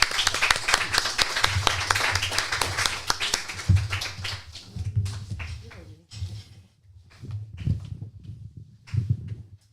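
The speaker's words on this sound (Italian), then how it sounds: "Un applauso a Margherita" Audience at an Italian book presentation applauding a woman taking the stage, a burst of clapping that fades into scattered claps with some voices and shuffling.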